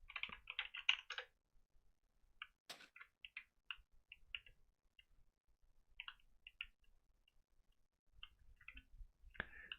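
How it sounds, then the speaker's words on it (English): Computer keyboard typing in quiet bursts of rapid close clicks, broken by pauses and scattered single taps. "at least there's keyboard noises as well"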